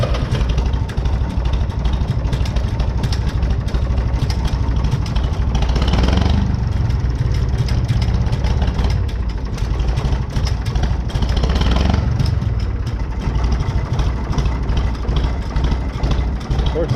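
International 484 diesel tractor engine idling after a fuel adjustment, a steady loud low rumble running throughout with a slight swell in revs partway through.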